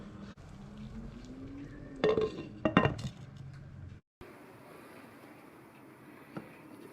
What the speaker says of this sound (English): I'll actually put the lid on as well.